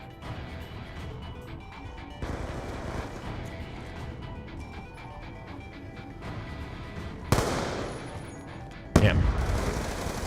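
Gunfire in a video game shooter: a few sharp, loud bursts stand out from a busy background of game sounds, while someone talks briefly over it.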